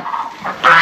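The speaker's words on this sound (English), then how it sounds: "Excuse me, Goose. Coming through." A goose in a farm pen on an icy winter day gives a short, nasal honking call, with a louder, harsher burst closing the brief sound.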